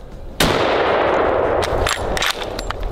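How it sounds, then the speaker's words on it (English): A single heavy report from an MRAD bolt-action rifle at an outdoor range, loud and close, followed by a long ringing decay and a few metallic clinks. "The MRAD. I've been waiting to shoot this bad boy."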